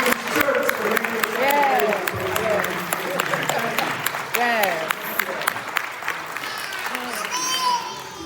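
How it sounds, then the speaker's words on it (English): An audience applauds the candidates at a District 5 primary forum held in a church, a steady wash of clapping mixed with cheering voices and children's chatter, fading near the end. "let's give a round of applause and thank you for these candidates"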